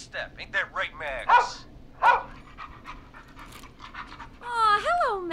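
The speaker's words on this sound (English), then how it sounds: "He's the best dog a guy could ask for." A rescue dog in the video game Killer Frequency pants in quick rhythmic puffs, then gives a few short yips and barks and a rising whine, close up, with voices heard around it.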